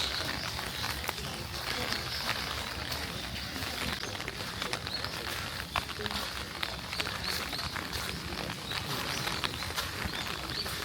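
Steady mountain rain near Kyoto, Japan patters continuously in a dense, even hiss with scattered drips, moderately loud throughout.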